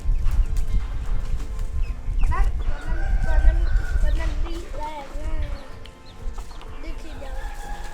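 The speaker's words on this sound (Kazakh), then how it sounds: "әтештерді жақсы көреді екен" Roosters crow in a Thai fishing village built over water, several drawn-out calls rising over a busy background of clucking fowl, clopping and a murmur of voices.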